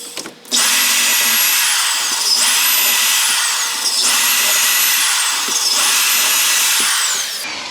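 A power drill runs in four long bursts, drilling binding-mount holes into a ski, each whirring steadily at a high pitch, then winding down before the next starts, loud and close.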